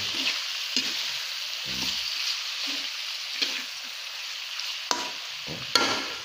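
Ginger, onion and garlic sautéing in a pan for adobong isaw, a steady close sizzle broken by scraping stirs and occasional sharp taps of a utensil.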